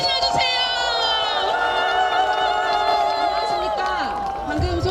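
Crowd cheering rises from an audience at a national emergency prayer rally in Incheon, a loud, continuous roar lasting the whole moment without pause.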